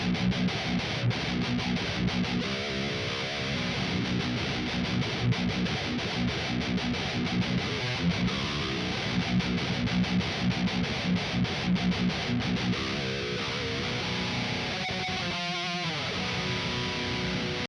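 A Jim Root Jazzmaster electric guitar plays heavy, distorted tones, a dense, loud wall of sound that continues steadily and ends with a few sharper picked notes.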